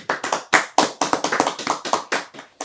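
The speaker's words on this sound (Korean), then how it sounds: "박수 치면서 끝내겠습니다." A burst of hand clapping from a small group, brisk and uneven, fading out after a couple of seconds with no voices.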